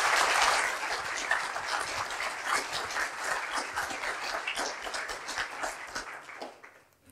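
Audience applause at a French eloquence contest, a dense patter of many hands clapping steadily for several seconds before thinning and fading out at the end.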